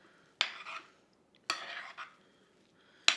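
Spoon mixing mashed potatoes in a bowl, three separate soft stirring scrapes with quiet gaps between, close and fairly faint with no talking.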